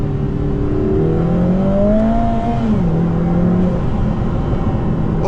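A 2024 Lotus Emira First Edition with the AMG 2.0-litre turbo four accelerates hard, engine note climbing then dropping softly through upshifts, heard from inside the cabin as a loud continuous drone with no voices.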